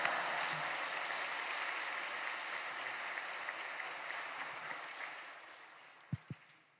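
A church congregation applauds with dense, sustained clapping that gradually fades out, followed by a couple of faint thumps near the end.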